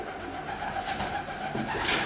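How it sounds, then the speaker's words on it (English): A pigeon coos in an abandoned school hallway, soft low calls sitting under a steady, loud hiss of ambient noise and echoing space, with no clear speech. "I thought that freaking pigeon will attack me or something."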